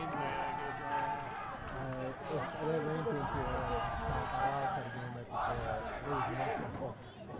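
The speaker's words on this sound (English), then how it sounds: "Huron bouncing up and down, cheering, getting themselves pumped up for the opening kick." A high school soccer team bounces and cheers before the opening kickoff, with crowd shouts and chatter layered over a commentator talking throughout.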